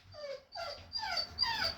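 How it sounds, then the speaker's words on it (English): A dog reacting to the mailman makes four quick, high, rising-and-falling whines in a row, fairly faint, over quiet low background noise. "The dog saw the mailman."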